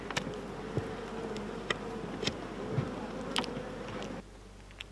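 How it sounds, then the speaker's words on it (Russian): Honey bees buzz steadily around a beekeeper's hives, a dense close drone dotted with sharp clicks and taps before the hum drops away near the end. "Медоносных пчел он закупает в южных регионах страны."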